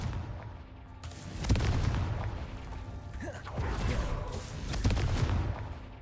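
Booming, rumbling blasts from the Confringo spell in the Hogwarts Legacy video game, several heavy hits spread across a busy game soundtrack with mechanical clatter, with faint talk underneath.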